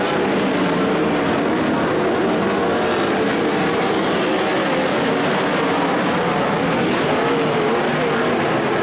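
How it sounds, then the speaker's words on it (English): Race cars roaring around an oval track, a loud, continuous engine drone with no breaks, close and dominant throughout. "Fisher now holding Colton Heath off by about 2 or 3 car lengths"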